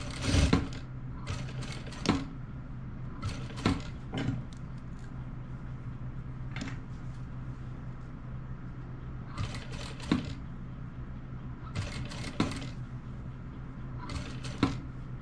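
A sewing machine stitches lace onto nightwear in several short bursts of rapid clattering, separated by quiet pauses with a soft background hum, heard close by.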